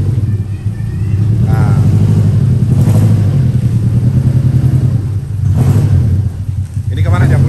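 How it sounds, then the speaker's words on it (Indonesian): A 2004 Zebra Espass pickup truck with a modified exhaust rumbles loud and close, its engine revving in steady swells with brief dips, while voices speak over it. "knalpotnya dibikin seperti itu kayak Jetstar ya, suaranya keren"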